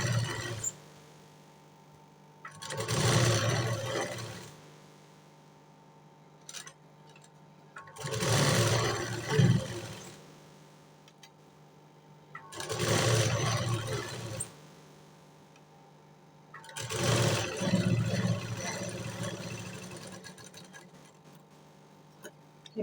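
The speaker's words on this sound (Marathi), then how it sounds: "आता थर्ड लास्टवाली शिलाई मी इलास्टिकवरती मारायला घेते." A sewing machine stitches elastic onto a puff sleeve in four separate bursts of whirring needle runs, each a few seconds long, separated by pauses with a faint hum, close and without voices.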